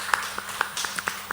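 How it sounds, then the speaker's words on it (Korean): Welcoming applause at a Korean church's Sunday morning service: a short burst of scattered, uneven hand claps from a small congregation, fairly close, with no talking over it. "환영하는 박수로 박수 해보죠"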